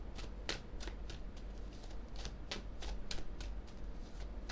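Tarot cards shuffled for a reading, a steady run of crisp riffling slaps repeating about every half second, close and fairly quiet with no talk.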